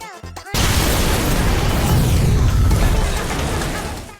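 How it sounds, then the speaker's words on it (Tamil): Spaceship exploding in an anime scene: after a brief sharp intro, a massive roaring blast bursts in and rumbles on densely for several seconds before slowly fading. "அப்ப பின்னாடி இந்த ஸ்பேஸ் ஷிப் வெடிக்கும்."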